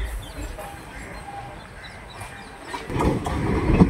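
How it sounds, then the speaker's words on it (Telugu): Circar Express passenger train to Kakinada Port starting off, a low rumbling rolling noise building louder toward the end as the carriage gets moving, with faint bird calls early on. "ట్రైన్ అయితే స్టార్ట్ అయిపోయింది."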